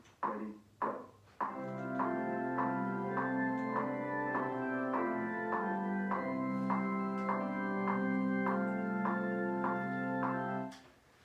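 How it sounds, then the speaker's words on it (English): An organ accompaniment for "JC is Risen Today" plays sustained, rich chords at a moderate, even level, preceded by a few sharp taps before it enters, then fades at the end. "So you hear the organ accompaniment."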